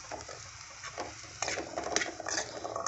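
Onions and tomatoes for a South Indian onion chutney sauté in a pan, with soft sizzling and scattered scrapes as they are stirred, growing a little louder toward the end.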